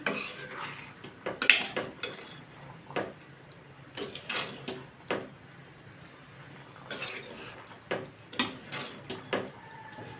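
Spoon clinking and scraping in a pan while vegetables are stirred for vegetable korma, irregular clatters and knocks at moderate level, close by, with no voice.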